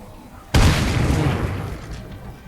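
A sudden loud grenade blast in State of Decay 2 bursts after a brief quiet moment, then a long rumbling roar that slowly fades, with game sounds around it.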